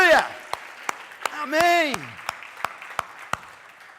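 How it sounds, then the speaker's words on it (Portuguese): A church congregation applauds in steady, rippling clapping, with sharp individual claps standing out at regular intervals while a voice speaks over it. "aplauda Ele com força, com fé, com graça, com agradecimento"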